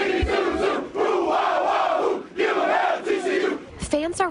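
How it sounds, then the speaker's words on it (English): A TCU stadium crowd roars out the Riff Ram Bazoo cheer, loud massed voices chanting in bursts with short dips between phrases, ending in rising shouts. "the oldest cheer in the Southwest Conference, the Riff Ram Bazoo"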